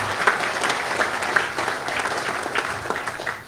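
Audience applause at a ceremony with a governor's remarks: a dense, steady wash of many hands clapping at once, sustained throughout and fading slightly at the end.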